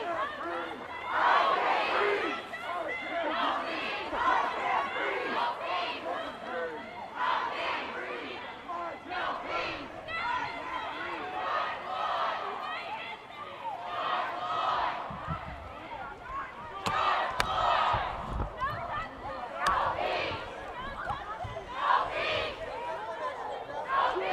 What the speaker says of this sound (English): Crowd gathering now here in front of the Monmouth County Courthouse